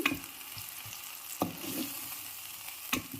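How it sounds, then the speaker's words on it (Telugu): Mint chutney ingredients fry in oil in a pan, a steady close sizzle broken by a few sharp clinks and stirring knocks. "ఆయిల్ వేసాం కదండి, కొంచెం బాగా ఫ్రై చేయాలి ఆయిల్లోనే."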